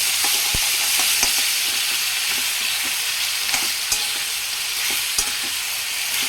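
Capsicum pieces frying with ginger paste in a pan, a continuous sizzle broken by repeated sharp stirring scrapes and taps of a spatula, no talking.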